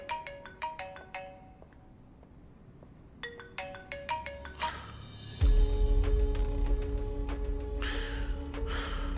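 A melodic electronic phone ringtone plays in short repeating phrases, then a louder musical burst with low rumble takes over.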